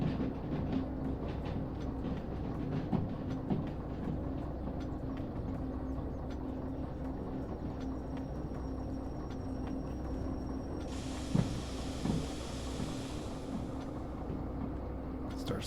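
A train in the railway game Derail Valley rolls steadily along the rails, a continuous low rumble with faint rhythmic clatter and a brief hiss burst near the end, no voices.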